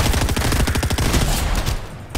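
Rapid automatic gunfire in a battle royale video game, loud and close, a dense burst of repeated shots that eases off near the end, with no talking.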